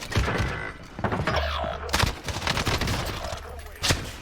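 An MP5 fires in a video game in rapid bursts and single sharp shots, loud and close, with one player voice talking faintly underneath.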